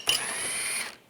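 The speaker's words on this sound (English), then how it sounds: "this is a 8mm socket I'm going to use to take this one out" An 8mm socket on a ratchet working a bolt loose on a 2013-2016 Dodge Dart, giving a brief, close mechanical whirring clatter that runs for about a second with no talk.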